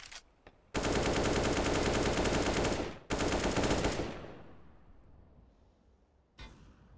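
AK rifles fire sustained automatic bursts during a Counter-Strike match. The sound is loud, dense and close, with a brief gap, then a long decaying tail and a final short shot.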